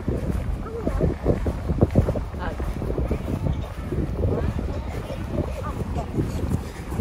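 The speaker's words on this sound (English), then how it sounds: "Not a bad day, a little bit windy." Gusty wind at Somerton Park buffets the microphone in rough low rumbles, steady throughout, with people talking outdoors underneath.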